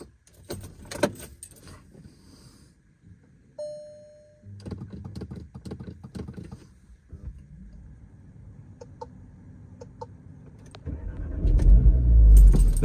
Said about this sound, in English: I start the car